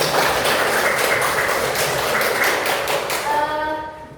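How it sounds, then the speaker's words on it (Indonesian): Students in a classroom clap together in a dense, steady burst that carries on for about three seconds, then thins out as a voice begins near the end. "Oke, kita kasih tepuk tangan untuk kita"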